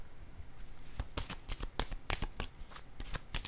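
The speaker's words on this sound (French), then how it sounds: "Je vais déposer une carte sur la destinée à l'envers." Tarot cards are handled and laid down on a table, making a quick series of soft crisp card slaps and flicks, close and faint, in an irregular rhythm.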